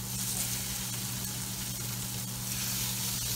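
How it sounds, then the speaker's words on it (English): Salmon fillets seasoned with salt and white pepper sizzling in a very hot pan, a loud, steady, close frying hiss with no voices. "Got the pan really hot. I'm gonna put the salmon fillets in, seasoned with a little salt and white pepper."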